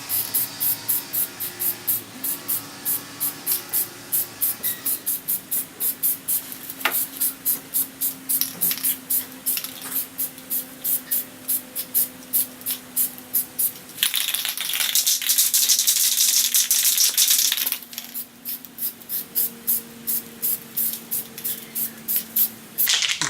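Black spray paint from an aerosol can applied to an air mover in rapid short hissing bursts, close and steady, with a longer continuous spray in the middle.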